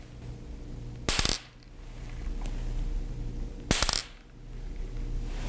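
A marble taps a glass pane twice, each a sharp bright clink with a brief ringing tail, the two strikes a couple of seconds apart over quiet room hum.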